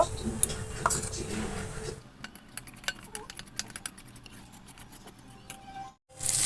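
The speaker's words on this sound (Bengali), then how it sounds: "এরপর জল দিয়ে দিলাম জল দিয়ে ফেটিয়ে নেব" Turmeric and chilli powder being whisked with water in a small bowl: quick light clicking strokes of a spoon against the bowl, close and fairly soft, after a brief louder clatter at the start.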